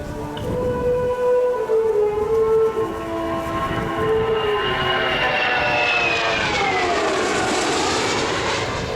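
A Royal New Zealand Air Force 40 Squadron aircraft makes its final display pass at an air show, a loud sustained engine roar whose pitch sweeps downward as it passes close overhead, with no talk.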